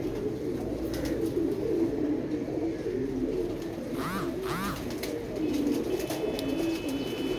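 A pigeon, a fine-eyed bird of a prized breed, coos softly and repeatedly at close range, low rolling calls over a quiet background, with a couple of sharper sweeping notes midway.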